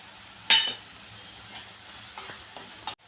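Chili powder sizzles in hot oil in a kadhai as it is stirred for chole, with a sharp burst of frying and scraping near the start. Softer stirring clicks follow, close and moderately quiet, with no talk.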